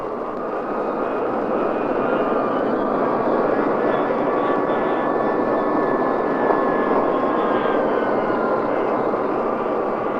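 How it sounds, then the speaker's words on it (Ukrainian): Steady, loud aircraft engine roar holding at a constant drone throughout, like propellers revving before a takeoff run, with a faint whine above. "Прогріті мотори, літак набирає швидкість"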